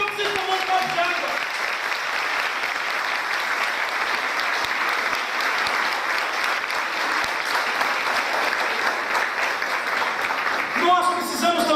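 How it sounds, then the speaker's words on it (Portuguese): A church congregation applauds continuously, a dense sustained wave of clapping that swells briefly at the end, with voices just audible at start and finish. "Se você crê, aplauda o Senhor"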